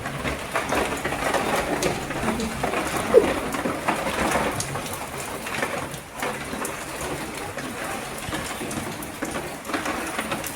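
Steady rain pours down during a stormy night, a constant close hiss of drops on surfaces lasting the whole stretch with no talk.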